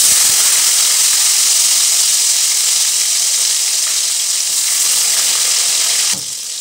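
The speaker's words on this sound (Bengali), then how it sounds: "ভেজে নেবো বন্ধুরা গাজর ভেজে নেবো, বেগুন ভেজে নেবো, উচ্ছেটা ভেজে নেবো, আর ক্যাপসিকামটা বন্ধুরা ভেজে নেবো।" Carrot, eggplant, bitter gourd and capsicum frying in hot oil for sukto, a dense continuous hissing sizzle, loud and close, steady throughout with a slight drop in level near the end.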